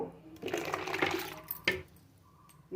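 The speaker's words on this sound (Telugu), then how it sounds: "ఈ పానీపూరి నీళ్లు ఫిల్టర్ చేస్తున్నాను" Tamarind-based pani puri water is strained through a filter, making a soft splashing trickle for about a second, followed by a faint clink and quieter dripping.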